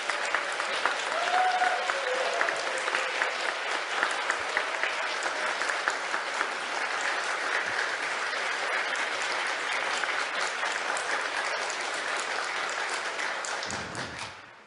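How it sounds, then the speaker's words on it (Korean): A studio audience breaks into long, loud applause to welcome a journalist guest at a Korean talk event, the dense clapping holding steady for many seconds before cutting off abruptly. "큰 박수로 환영의 뜻을 전해주십시오."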